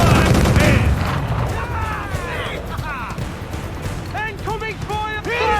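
Ship cannon fire booms in a sea battle in Assassin's Creed IV: Black Flag, a dense barrage of blasts and crashes mixed with shouting crew voices and game music.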